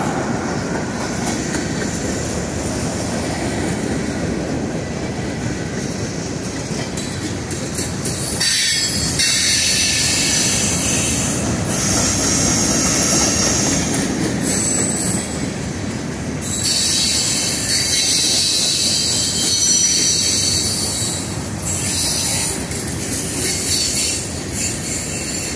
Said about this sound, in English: You'll see the train on the other side, he's still creeping by.